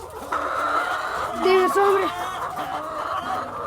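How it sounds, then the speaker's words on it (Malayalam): BV318 laying hens on a chicken farm cluck and call in clear, overlapping bursts close by, while a person talks over them. "BV318 എന്ന് പറഞ്ഞ മുട്ടക്കോഴികളാണ്. ഇത് മുട്ടക്കോഴിയാണ്."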